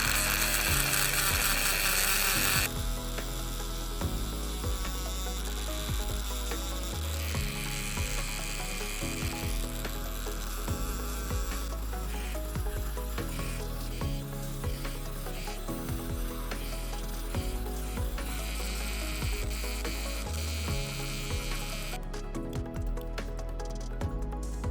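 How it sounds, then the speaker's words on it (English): A Dremel rotary tool grinds the corners of a piece of amber, giving a steady close rasping and rubbing that runs continuously with brief pauses and shifts in intensity, no voices present. "So I will use Dremel for the corners, probably a little bit."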